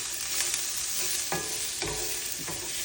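Potatoes and onions frying in a skillet for corned beef hash, a bright steady sizzle broken by a few stirring scrapes.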